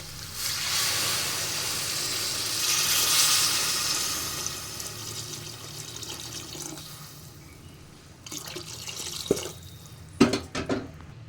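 Water pours steadily into a cooking pot for several seconds, then trails off into scattered splashes and a few clinks near the end; no talking.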